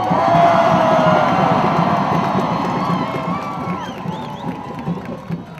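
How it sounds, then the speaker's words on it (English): Loud, sustained roar of a big crowd at a pro-Palestine protest outside San Francisco City Hall cheering and yelling, with whistles and whoops rising above, gradually easing slightly toward the end. "Anybody who's not Palestinian,"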